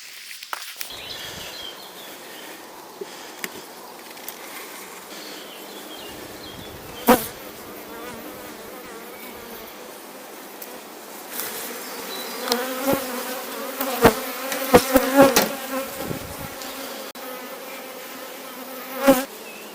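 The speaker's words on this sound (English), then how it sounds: "So while I'm spacing out looking at my bees for the first couple of frames" Honeybees buzz around an open beehive during a frame inspection, a steady close drone that swells in the second half with several bees passing near, plus occasional soft knocks and clicks.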